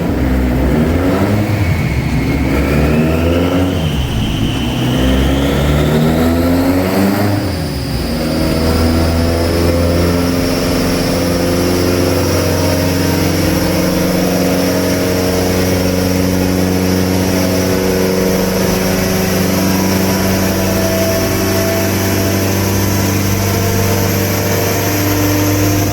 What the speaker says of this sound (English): I know everybody likes that, the throttle noise